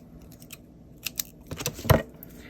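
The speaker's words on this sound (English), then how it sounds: "Let me trim that end off." Scissors trim the end of a strip of craft paper for a handmade card: a few quiet snips, then a sharper, louder cut near the end, close by with no talking.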